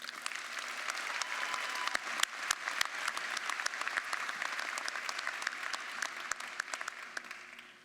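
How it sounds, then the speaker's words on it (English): Warm, sustained applause from a crowd at a university College of Business commencement welcoming a student speaker, steady and fairly distant, with scattered individual claps standing out. "Please join me in giving a warm round of applause to our College of Business student speaker, Ms. Charmin Jahan."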